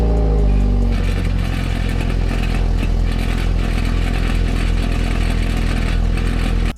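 A BMW F30 with a rattling fault at start-up gives a loud, steady mechanical clatter over a running engine, continuous and close throughout.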